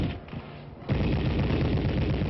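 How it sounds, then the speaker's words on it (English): Sustained machine gun fire during a staged war exercise with tanks, a dense continuous clatter of shots that grows louder and fuller after a short opening stretch. "Machine guns and tanks are brought into play as this realistic game of war continues without benefit of rule books"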